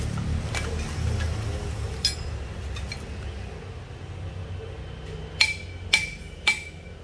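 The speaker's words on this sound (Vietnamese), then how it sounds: "đây là một cây búa đóng đinh, nhổ đinh ok luôn em nha" A metal claw hammer, a second-hand Japanese tool, is handled over a quiet, low rumbling background, giving a few scattered knocks and then three sharp, closely spaced metallic clinks near the end.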